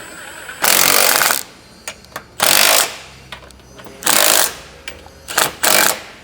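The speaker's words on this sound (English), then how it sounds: "All the bolts have been tightened up and nipped up." A power tool, likely an impact driver, tightens bolts on recovery tow points being fitted to a Toyota LandCruiser LC300. It runs in loud bursts of about a second each, separated by short clicks and quiet gaps.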